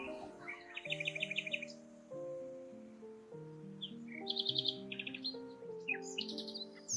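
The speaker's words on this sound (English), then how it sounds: "Common nightingale songs are made up of 200 different phrases of loud whistles, gurgles, and trills." Common nightingale singing a varied song of loud whistles, gurgles and trills, with quick repeated high chirps and phrases over a layer of sustained tones, close and steady throughout.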